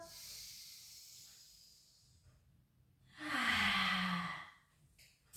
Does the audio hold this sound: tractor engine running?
no